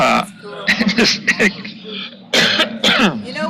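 A few short coughs and throat-clearing bursts, close and fairly loud, in a rough rhythm.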